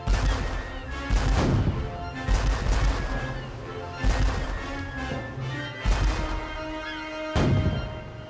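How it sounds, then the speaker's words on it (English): Ships' cannon firing in a sea battle, several heavy booming volleys in irregular bursts with crashing impacts and rumbling echoes, loud and dense throughout. "Hornigold's 3 ships attack the French ship with their guns."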